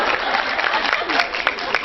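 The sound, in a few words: audience laughing and applauding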